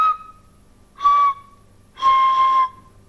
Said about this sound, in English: you can make a whistle that has several notes